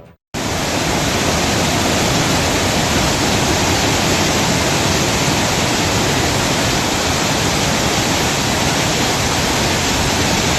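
Rivers in North Karnataka, swollen past the danger mark after heavy rain, pour as a loud, unbroken broadband roar of rushing water that holds steady throughout, with no voices.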